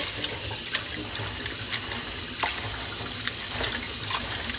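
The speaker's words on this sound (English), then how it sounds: "So you want to wash your dhal until it's running clean. And I would recommend using warm water" Dhal lentils being washed under warm water running from a tap into a sink: a steady close rush of flowing water with small splashes and bubbling, no voice.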